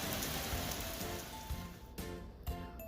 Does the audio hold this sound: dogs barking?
no